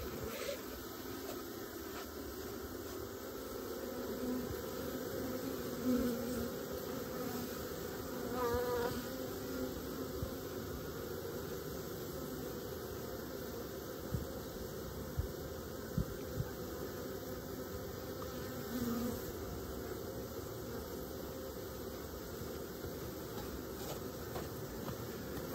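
Honeybees at a hive hum in a steady, dense, faint drone that carries on unbroken, with a few brief knocks and scrapes nearby.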